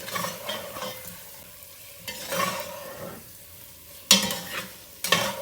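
Paneer pieces tossed and stirred in a hot pan, soft sizzling under intermittent scrapes, with two sharp utensil knocks near the end, no talking.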